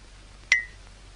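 A single short electronic telephone beep sounds once, clear and brief against a quiet background, with no voices.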